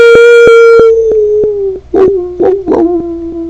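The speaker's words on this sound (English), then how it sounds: "Even now you can hear the howls in the night" Canine howls rise and hold in long sustained tones, first with sharp rhythmic pulses beneath, then broken by several yipping, whimpering bursts; loud and close, no talking.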